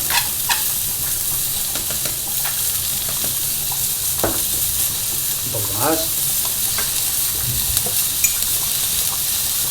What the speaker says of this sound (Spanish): Y rápidamente vamos salteando.